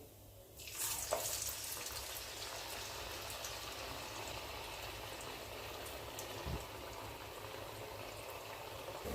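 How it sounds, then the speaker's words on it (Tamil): Ragi adai shallow-frying in oil in a pan: a steady, close sizzle and crackle of hot oil running throughout, with a brief sharper burst near the start and no talking. "நல்லா பின்னாடியும் முன்னாடியும் திருப்பி போட்டு நல்லா எண்ணெயை விட்டு வேக விடுங்க"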